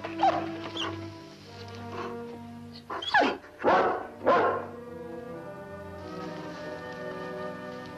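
A big dog in a 1960 Western gives several loud, separate barks in a row over a steady background drone, and no one speaks.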